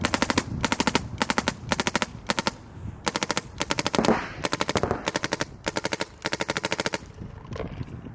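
A MacDev Prime XTS paintball marker fires in rapid bursts, each a quick run of sharp, evenly spaced pops. Brief pauses separate the bursts, and the shots sound close and loud.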